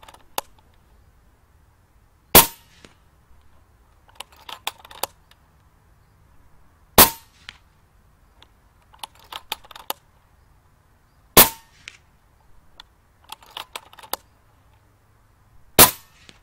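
PCP air rifle fired with a Wrangler Phenom moderator fitted, giving four sharp, muffled cracks spaced several seconds apart, with light mechanical clicks and handling sounds between shots in a quiet setting.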